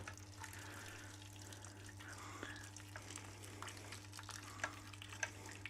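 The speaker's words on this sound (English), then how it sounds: "Hang on, I can wash all the grains in here while I'm here." Tap water running while grains are washed, a quiet, steady flow with light splashes and small clatters in a sink, heard alone at low level.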